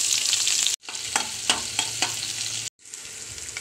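Chopped onions and green chillies fry in hot soybean oil, a loud close sizzle broken by repeated scraping stirs and two short cutoffs.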